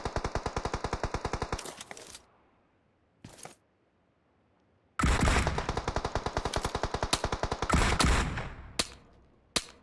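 Automatic gunfire from the mobile battle royale game BGMI, with rapid bursts of shots up close, a short pause with a single shot, then another long, loud burst and a few isolated shots.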